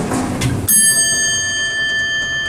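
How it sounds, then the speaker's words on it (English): Arrival chime of an old Westinghouse hydraulic elevator in a San Francisco building: a single bright, ringing electronic tone that sounds after a moment of rumbling and lingers clearly, close and loud. "Love that chime."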